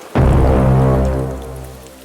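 Heavy rain pours on a car during a night drive, starting abruptly as a loud, dense hiss over a low engine-like hum, then easing slightly, with no talking.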